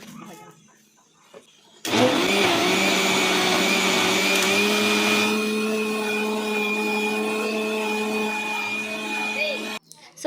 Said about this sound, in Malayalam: മിക്സിയിലൊന്ന് അടിച്ചെടുക്കുക